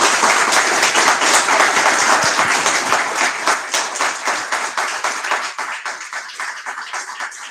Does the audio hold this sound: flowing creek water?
no